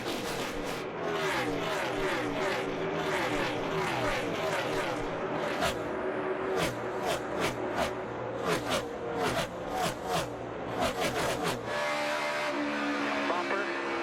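NASCAR stock cars roar around the track at the 2017 Kobalt 400, with a continuous loud engine drone and repeated sharp pass-bys near the end, and a crowd and announcer noise underneath.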